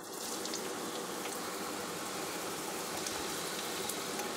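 Chopped large onion frying in hot refined oil, a steady dense sizzle and crackle that holds evenly from start to finish, close and fairly loud, with no voices.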